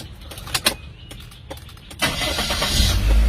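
A few clicks, then a Toyota Corolla Altis automatic running on gas cranks and starts close by, settling into a steady low idle rumble.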